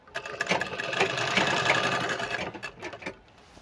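A sewing machine stitches a sherwani sleeve in a steady, close, continuous run that fades out near the end. There is no talk.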